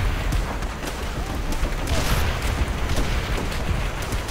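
Tank combat in the World War II shooter Call of Duty: World at War, with booming cannon fire and steady battle rumble rolling throughout as a voice talks over the noise.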